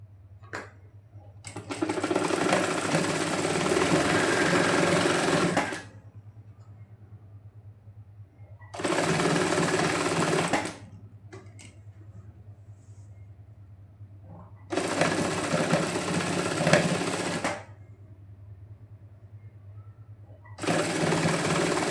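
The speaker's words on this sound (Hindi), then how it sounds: "यहाँ पे हम बिल्कुल किनारे किनारे पे सिलाई चला देंगे बुकरम के" Electric sewing machine stitching along the buckram edge of a neckline, four loud, close bursts of rapid whirring separated by quiet pauses, with no talk.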